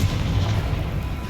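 A Confringo fire spell blasts in Hogwarts Legacy, a short, loud, booming burst with dense low rumble that holds steady through the brief moment.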